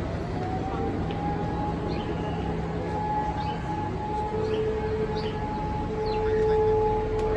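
A civil defense air raid siren test in Bucharest wails as a steady, sustained tone held over several seconds, with a second pitch joining later, heard at a distance over constant city background noise.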